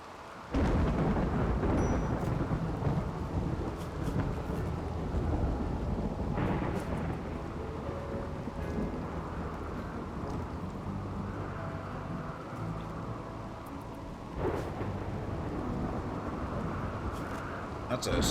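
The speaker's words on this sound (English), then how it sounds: "That's a severe storm." Severe thunderstorm in the video game RimWorld, a steady wash of rain under deep rolling thunder, with a sharper crash near the start and another swell later, while a voice talks over it.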